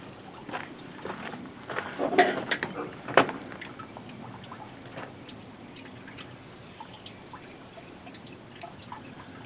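Coolant drips from the radiator of a 1974 Chevy C30 dually pickup, faint irregular drops and trickles that cluster briefly before thinning out.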